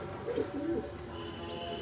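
Pigeons coo softly in a short, low burst of two or three rolling calls close by, amid faint background noise. The birds are kept pigeons being fed.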